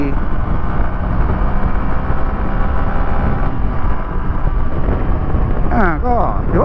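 A 2020 Yamaha WR155R motorcycle ridden on asphalt roars steadily throughout with heavy wind buffeting on the microphone, and a rider's voice cuts in near the end.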